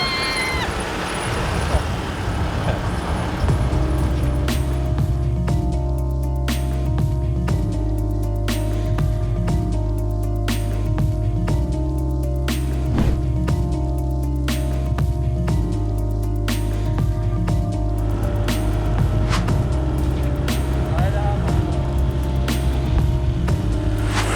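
A car drives along a road in Vietnam, its steady low engine and road rumble filling the cabin throughout, with people talking over it.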